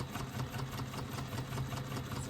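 A sewing machine runs steadily with a long stitch length, sewing faux leather or fabric exterior panels with foam stabiliser, giving a continuous low mechanical hum with faint rhythmic ticking throughout and no talking.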